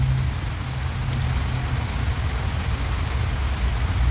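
Steady outdoor rain hisses in a dense, unbroken wash of noise, with a low rumble underneath and no voices.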